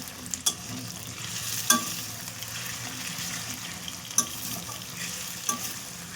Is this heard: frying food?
yes